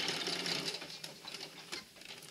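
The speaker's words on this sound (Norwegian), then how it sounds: "Og så sy fremover." A sewing machine stitches fabric forward in a home sewing room, a brief fast mechanical whirring run, close and moderately loud, with no voices.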